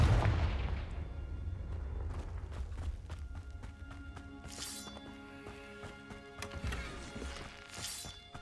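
A Confringo fire spell explodes in the video game Hogwarts Legacy. A loud, rumbling blast opens the sequence and slowly fades under sustained game music, then sharper crackling bursts flare up near the end.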